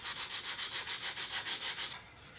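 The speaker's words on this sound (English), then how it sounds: "I got to work harder to get them out with the progressively finer sandpaper" Wood being sanded by hand with sandpaper, a steady run of about nine rhythmic back-and-forth scrubbing strokes, close and crisp, ending in a faint hiss.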